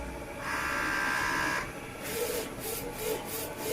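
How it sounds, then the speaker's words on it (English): A DTF printer runs a print pass, its carriage moving with a steady whirring hum and then a series of rhythmic, evenly spaced mechanical pulses, close and moderately loud with no voices. "then the printer starts to print the picture"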